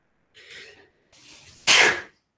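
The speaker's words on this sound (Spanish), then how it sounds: "Estornudar" A person sneezes once indoors, with two short drawn-in breaths building up before the loud, sharp burst at the end.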